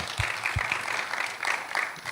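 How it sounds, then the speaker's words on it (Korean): Scattered audience applause during a church sermon, a modest patter of hands clapping at a fairly even pace, light and somewhat distant. "솔직히 박수 쳐주세요"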